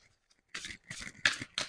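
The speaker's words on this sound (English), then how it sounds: "let me quickly do a shuffle" A deck of tarot cards shuffled by hand in a quiet room: four crisp riffling bursts in quick succession, close and clear, with a few soft taps before them and no voices.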